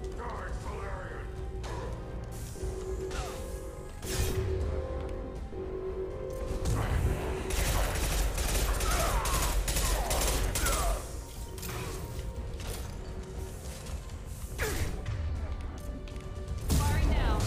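Gunfire in a Mass Effect 2 battle, dense bursts of shots and crashing impacts layered with game music and effects, with character voices talking over the fighting throughout.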